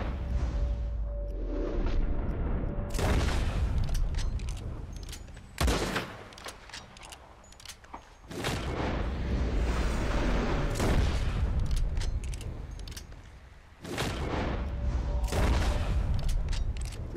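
Several loud gunshot bursts from the video game Red Dead Redemption 2, fired at a legendary elk, each a sharp crack followed by a rumbling decay, spaced a few seconds apart.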